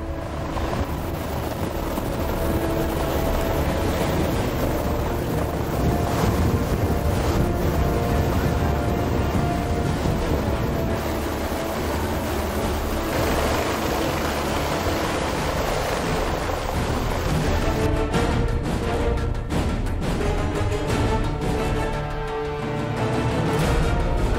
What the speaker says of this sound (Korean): 폭풍우처럼 밀려오는 헬리콥터의 바람을 온몸으로 버티며 환자를 위로 올려야 합니다.